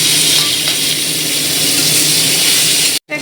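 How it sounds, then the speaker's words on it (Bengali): Bitter gourd frying in hot oil for a Medinipur-style Bengali shukto gives a steady, loud, close sizzle that continues evenly, with a brief dropout near the end. "উচ্ছেটাকে একটু লাল লাল করে ভালো করে ভেজে নিচ্ছি"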